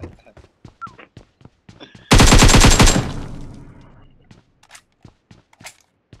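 A loud, fast burst of automatic gunfire in a video game erupts after light footsteps, lasting about a second and ringing out into a fading tail before the steps continue.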